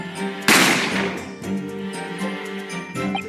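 In The Great Ace Attorney Chronicles, one loud gunshot effect bursts in abruptly and rings out with a long fading tail, layered over ongoing background music from the game.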